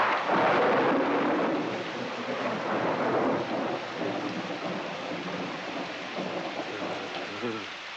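Heavy rain pours steadily with low rumbles of thunder underneath, a dense continuous wash that eases slightly toward the end.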